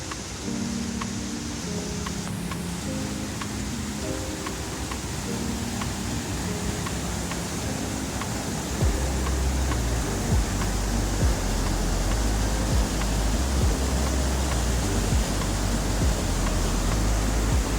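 A waterfall pours beside a small bridge on a hiking trail, a steady broadband rush of falling water that grows louder and deeper partway through as the source comes closer.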